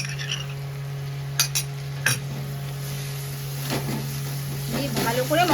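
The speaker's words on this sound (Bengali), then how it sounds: "মশলাটাকে কিন্তু আগে ভাজা ভাজা করে নেব" Ground turmeric, chili powder and ginger-garlic paste fry in a pan, with a low steady sizzle and a few clinks of a spoon against the metal while someone talks over it.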